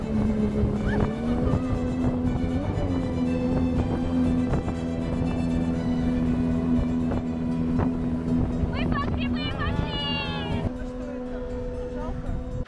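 A motorboat engine crossing water in the Altai region of Central Asia drones loudly and steadily throughout, with brief higher warbling sounds near the end.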